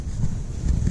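Strong wind in snowy Iceland buffets the microphone with a loud, low, gusting roar that swells and fades unevenly throughout.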